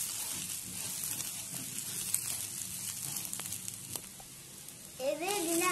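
Clam meat frying in a pan with stirring: a continuous soft sizzle with faint scraping and occasional crackles, and a voice rising briefly near the end.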